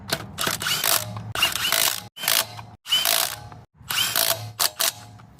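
Ratcheting mechanical bursts come in several short runs with brief pauses as a wheel is fitted and its nuts run back onto a 1998 Toyota Prado during a brake job, close and clear.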